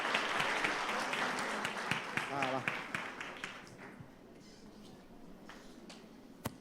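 Church congregation applauding during a Sunday celebration service, a dense patter of many hands that fills the first half, then thins to scattered claps and fades toward the end, with voices mixed in.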